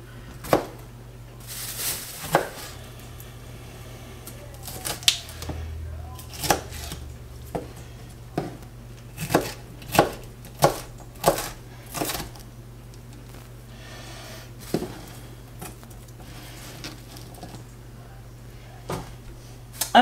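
Jalapeno peppers are chopped with a knife on a board, a scattered series of sharp, close taps and knocks over a low steady hum, with brief bits of talk.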